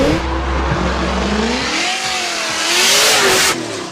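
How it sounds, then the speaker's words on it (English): A car drifts with its engine revving hard, the pitch climbing and falling in sweeping waves over a loud, steady roar of tire and exhaust noise, close and continuous with no talk. "my trip finished off with some drifting"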